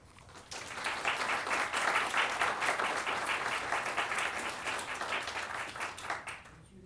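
An audience applauds warmly to welcome the speaker at a museum lecture, a steady wash of clapping that swells quickly, holds for several seconds, then tapers off.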